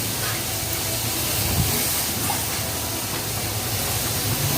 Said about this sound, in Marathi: इथे बटाटे टाकून घेते